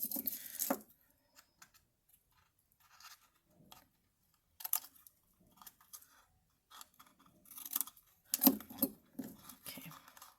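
A few short snipping and scratching cuts trim a little piece off a handmade barn ornament, close and quiet, with soft handling noises between the bursts and long near-silent gaps.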